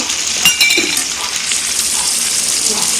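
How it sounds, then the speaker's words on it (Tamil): Tomato and onion fry in oil with chicken masala powder for a country chicken curry. A loud, continuous sizzle carries a few stirring scrapes and faint clinks near the start. "தக்காளி வெங்காயத்தை நல்லா வதக்கிட்டு நம்ம எடுத்து வச்சுருக்கிற கரம் சிக்கன் மசாலா பொடி"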